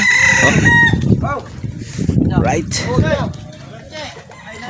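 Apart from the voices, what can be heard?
chickens crowing and clucking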